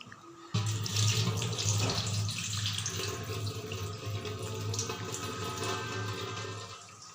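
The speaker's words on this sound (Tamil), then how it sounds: "இதை தண்ணியை வந்து நல்லா ஒட்ட வடி எடுத்துடணும்." Soaked moong dal having its soaking water poured off, a continuous splashing rush of water that starts abruptly and runs steadily for several seconds, close and fairly loud.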